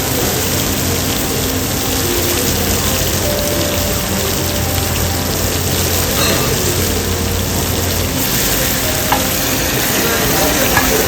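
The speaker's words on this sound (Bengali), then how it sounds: "এই যে মাছটা চলে গেল তেলের ভিতর।" Hilsa fish frying in hot oil at a riverside eatery on the Padma River bank, a loud, dense, continuous sizzle and crackle like heavy rain, with a few sharper pops near the end.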